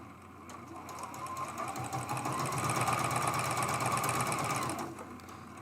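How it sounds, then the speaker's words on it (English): A sewing machine stitches a quarter-inch seam on a quilted mug rug, a steady close whirring hum that builds, runs evenly for several seconds, then stops. "I removed the filter so you might hear my sewing machine."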